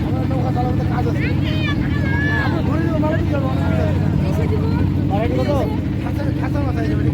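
A motor boat carries several passengers on the Padma river at Jalangi, its engine droning steadily and close throughout while people chat over it.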